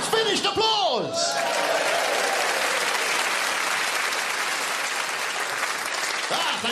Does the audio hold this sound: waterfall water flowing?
no